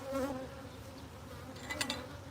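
Honeybees buzzing around an opened hive during a honey harvest; a faint, steady hum from nearby bees, with a slightly louder pass or two from individual bees.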